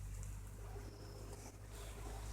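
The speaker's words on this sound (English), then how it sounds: "Here goes the gentleman on his tractor." Tractor engine clearing snow on a crisp January morning during a West Virginia blizzard, a steady low rumble mixed with constant wind noise, heard alone without talk.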